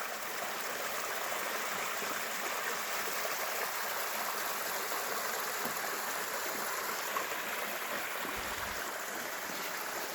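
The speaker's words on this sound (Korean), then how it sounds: "계곡 한번 보세요." A mountain valley stream flows steadily beside a rural rest cabin, its broad, constant rushing and babbling filling the scene at moderate volume with no voices.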